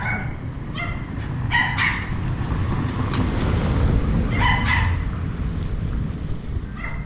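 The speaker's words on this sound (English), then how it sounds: "Couple dogs in there." A couple of dogs bark from a house along a rainy road in a Philippine neighborhood, several sharp barks in two short bursts over a steady hiss of rain and wind, moderately near.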